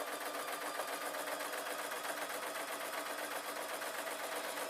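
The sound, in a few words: sewing machine stitching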